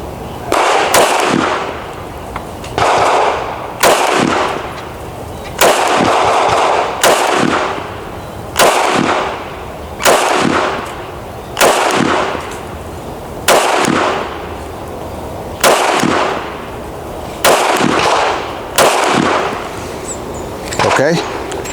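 Pistol shots from a Canik Mete MC9 and a SIG P365 X Macro at a shooting range ring out as about fifteen sharp, loud reports, evenly spaced roughly one to two seconds apart, each with a short echoing tail.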